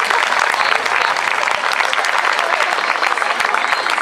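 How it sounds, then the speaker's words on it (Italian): An audience at a fashion night show claps continuously: loud, dense applause from a crowd that holds steady throughout. "Fate l'applauso però,"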